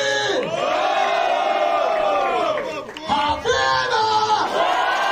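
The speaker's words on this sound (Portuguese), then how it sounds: "pra vocês escolher um MC pra vocês gritar" A rap battle crowd yells and cheers in loud, sustained massed shouts, dipping briefly midway before surging again.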